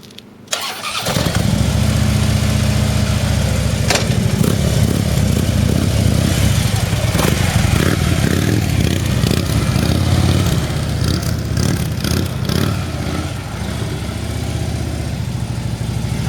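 A motorcycle engine idles and revs steadily at close range through a tight 27-foot parking-lot U-turn made with an aggressive dip, its rumble loud and unbroken for the whole stretch.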